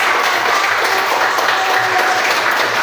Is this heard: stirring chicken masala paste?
no